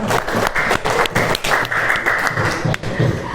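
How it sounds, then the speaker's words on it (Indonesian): Applause for Mas Nizar in a classroom after answering a question on letter elements, a short burst of many hands clapping close by with uneven rhythm, faint voices underneath. "Beri tepuk tangan untuk Mas Nizar"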